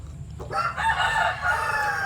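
A young rooster (stag) at a backyard poultry farm crows once up close, a harsh drawn-out call over low background noise, with no one speaking.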